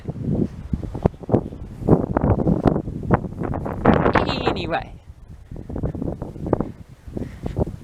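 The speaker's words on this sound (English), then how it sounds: "It's a bit windy, isn't it?" Gusty wind buffets the microphone in low rumbling bursts while someone talks over it outdoors.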